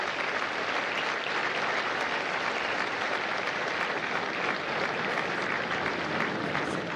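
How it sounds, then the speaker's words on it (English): A large crowd at a U.S. Marines graduation at MCRD San Diego applauds the families, a continuous, even roar of many hands clapping, steady throughout with no break. "please give a round of applause to the families of Lima Company"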